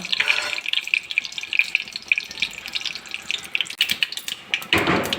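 Mustard seeds splutter in hot oil in a home kitchen, a close series of sharp irregular pops and crackles over a faint sizzle, growing into a denser burst at the end.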